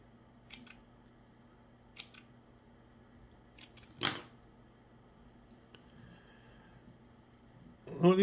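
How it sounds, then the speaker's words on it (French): Scissors snip through a small bundle of olive Crystal Flash strands during fly tying for a Clouser Minnow, a few sharp close clicks separated by quiet pauses. "On les coupe bien droit."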